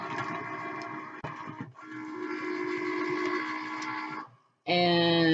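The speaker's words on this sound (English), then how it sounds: "Now I'm gonna hit the Cricut logo for it to start cutting the project." A Cricut cutting machine cuts earrings from veneer, giving a steady, fairly loud mechanical whine with shifting tones as the carriage moves, a brief pause, then a renewed, brighter motor hum.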